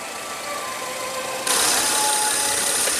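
A Ford Explorer's 3.5-liter twin-turbo V6 EcoBoost engine idles steadily under the hood with a low, even hum, then a brighter hiss suddenly joins halfway through and holds to the end.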